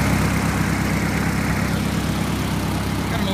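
A small stationary engine from around 1941, fitted with an oil filter canister and a generator, idles steadily, a close, even low rumble that purrs on without change.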